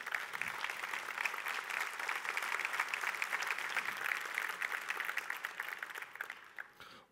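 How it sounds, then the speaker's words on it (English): Applause from a keynote audience at a smart cities congress in Barcelona rises into steady, dense clapping, moderately distant, then tapers off at the end. "I think he deserves an applause,"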